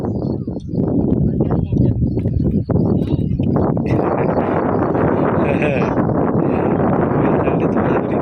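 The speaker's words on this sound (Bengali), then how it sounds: "হাওয়াটা খুব চলছে।" Strong wind roars and buffets against the microphone in loud, rumbling gusts in an Indian village, with a voice partly audible beneath the blustery noise.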